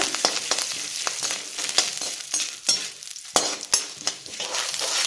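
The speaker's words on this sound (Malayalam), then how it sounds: "ഉഴുന്ന് പരിപ്പും കറിവേപ്പിലയും വറ്റൽമുളകും ചേർത്തൊന്ന് താളിക്കാം." Urad dal, curry leaves and dried red chillies frying in hot oil for a Kerala pappadam thoran tempering, with crackling sizzle and sharp spatula stirring scrapes and taps coming in irregular bursts, close and clear.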